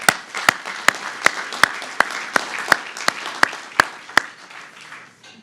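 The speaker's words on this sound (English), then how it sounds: "Let's go ahead and give her a round of applause." A small group at an anniversary gala and installation claps for an award recipient, with sharp, evenly spaced claps standing out over light, sparse clapping. The sound is moderately faint and stops after about five seconds.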